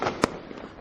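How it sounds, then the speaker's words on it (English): A single sharp firecracker blast during Diwali in Mumbai stands out against a dense bed of distant crackling fireworks and street noise. "every family stocks up on what we call firecrackers, and they let them off everywhere"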